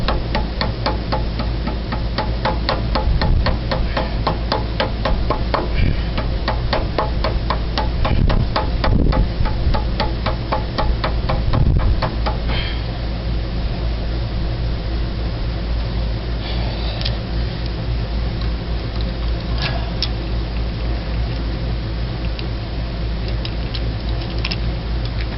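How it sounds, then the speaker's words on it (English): Light, evenly spaced taps from a rubber mallet on the center of a part on a Ford 400 engine in a 1978 Continental Mark V during timing chain work. The dull ticks repeat steadily for about twelve seconds, then stop, leaving low background noise. "So I'm just going to hit it with a rubber mallet"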